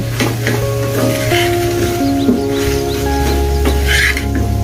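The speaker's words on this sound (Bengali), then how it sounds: "যে বেরেস্তাটা করেছি সেটার সাথে দিয়ে ভালো করে মিক্সড করে নিচ্ছি" Potato mixture being stirred with fried onions and garam masala in a hot pan for an egg and potato chop, a loud steady sizzle with repeated scraping stirs close by, no voices.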